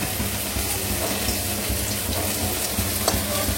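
Poppy seed fritters (posto bora) fry in hot oil with a dense, steady hiss and crackle that continues evenly and close by, with no talking.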